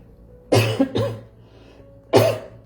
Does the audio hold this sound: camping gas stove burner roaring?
no